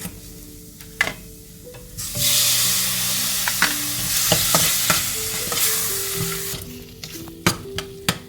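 Tomato hitting hot chili and coriander masala for a Malabar fish curry, a loud sudden sizzle that keeps going under repeated spoon stirs and scrapes against the pan, with sharp knocks near the end.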